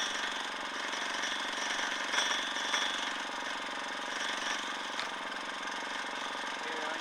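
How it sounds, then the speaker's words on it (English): A mini generator powering an angle grinder cutting thick metal, giving a steady, fairly loud high-pitched mechanical whine with broadband grinding noise throughout, plus a few brief louder bursts. "Runs the angle grinder just fine."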